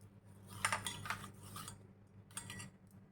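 Lightly roasted muskmelon seeds tipped into a dish of raw milk and curd for a temple offering, giving a few soft, scattered rattling clinks up close over a low steady hum.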